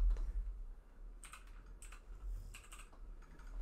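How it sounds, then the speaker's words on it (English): Several crisp keystrokes on a computer keyboard, a few quick clustered clicks followed by more taps, close and fairly quiet over a low background hum. "Can you hit N on the keyboard for me?"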